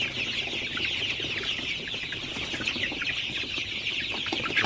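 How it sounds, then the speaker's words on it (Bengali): Sonali super hybrid chickens cluck steadily in a hot poultry house, a dense, continuous flock chorus of overlapping clucks at close range with no talking. "এই গরমের মধ্যে মুরগিগুলাকে একটু পর পর তাড়াইলে কিন্তু খুবই ভালো হয়।"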